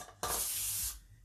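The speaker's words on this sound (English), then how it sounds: "I gotta spray my hands" A hand-held spray bottle mists sticky hands while baking a vegan gluten-free lemon blueberry cake, one short loud hissing burst of about 0.7 seconds, close by and with no talking.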